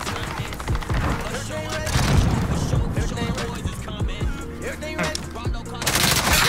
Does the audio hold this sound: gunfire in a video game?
yes